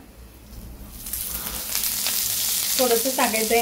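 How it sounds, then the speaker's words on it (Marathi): Onions fry in oil in a pan, the sizzle swelling from soft to a loud, steady crackling hiss, with a brief spoken word heard near the end. "आता सध्या आपण असंच कांदा भाजून घ्यायचा आहे"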